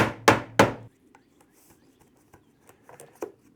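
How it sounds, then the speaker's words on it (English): Hammer blows driving nails into window trim, three sharp close knocks in quick succession at the start, followed by faint scattered taps and light handling noise. "just drive it in with a hammer"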